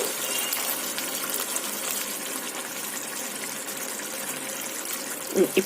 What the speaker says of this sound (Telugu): మీకు మరీ చిక్కగా అనిపిస్తే కొంచెం వాటర్ వేసుకోవచ్చు